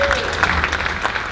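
Audience applause at a music café show, brief burst of clapping from a crowd, steady and moderately loud, with speech mixed in.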